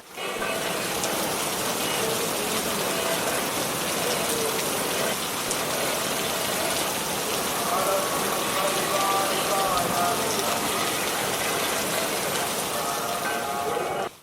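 Heavy rain pours down in a dense, steady roar on the Sabarimala pilgrim trail, loud and continuous throughout, with a faint voice beneath it.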